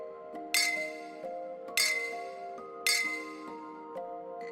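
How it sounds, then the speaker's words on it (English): Glass bottles clink in three sharp, ringing strikes about a second apart, each with a bright fading tail, over a soft steady musical drone in a NIKKE video game scene. "Only the clinking of glass bottles fills the air."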